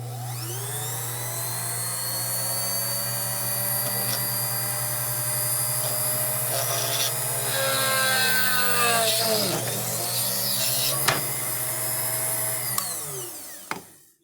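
A hole is worked into an enameled copper tube, giving a continuous high, tonal mechanical whine that holds steady for about thirteen seconds, wavers partway through, then winds down and stops.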